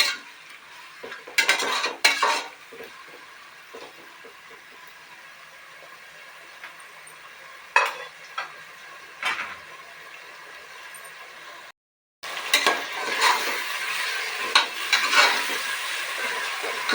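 Tomatoes tipped into a hot pan of ginger and garlic for green pulao, stirred and frying in bursts of sizzling and scraping, close and steady, with brief quieter stretches between stirs.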